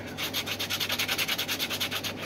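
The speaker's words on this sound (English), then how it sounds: "You just use your bit of sanding cloth or sandpaper at a pinch, and that just polishes that off" A prefab fishing lure component is rubbed by hand with sanding cloth, making a close, steady scratchy back-and-forth rasp in a quick even rhythm of about eight strokes per second.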